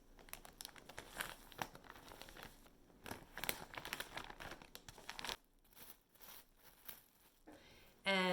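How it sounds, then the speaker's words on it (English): A Ziploc bag of frozen caul fat handled up close, giving loud, irregular crinkling and crackling plastic bursts that pause briefly, then resume. "I simply pulled my caul fat Ziploc bag out of the freezer"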